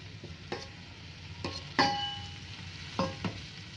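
Ginger, garlic and bottle gourd pieces frying in a pan for a sorakaya masala curry, making a quiet, steady sizzle broken by a few sharp spatula scrapes and knocks against the pan, close by, with no voices.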